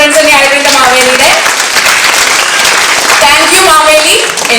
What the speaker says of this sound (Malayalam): മാവേലിക്ക് നല്ലൊരു കയ്യടി.